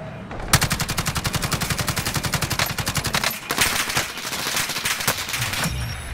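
Automatic gunfire in Call of Duty: Modern Warfare Plunder mode, a rapid steady burst of loud close shots followed by scattered bursts and echoing fire from further off.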